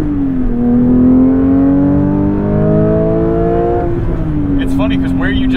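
A 2022 Porsche 911 GT3 engine revs hard under acceleration, its pitch climbing steadily, then dropping sharply with a gear shift and rising again, loud and close from inside the car, with brief voices near the end.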